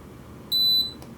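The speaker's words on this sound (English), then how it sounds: "It's a buzzer." A piezo buzzer inside a CurrentBody or Shark CryoGlow device gives a single short, high-pitched electronic beep of about a third of a second, followed by a faint click, close up against quiet background noise.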